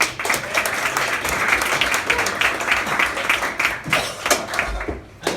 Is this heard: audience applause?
yes